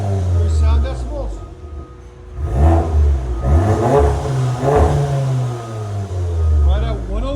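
Tuned 400 hp VW GTI fitted with a Unitronic exhaust system and 3-inch downpipe, blipped through several quick loud revs that rise and drop, with a steady rumbling idle between them.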